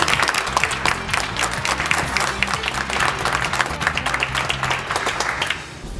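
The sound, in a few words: audience applause at stock market closing bell ceremony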